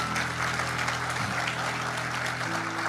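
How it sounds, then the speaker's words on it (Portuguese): Church congregation applauding during a service led by pastor Marcos Feliciano: dense, sustained clapping from many hands fills the room evenly for the whole span, with a low steady hum of sound system or organ beneath it. "quem pode dar a Jesus uma salva de palmas?"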